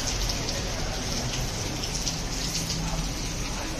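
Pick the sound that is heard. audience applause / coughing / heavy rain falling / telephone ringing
heavy rain falling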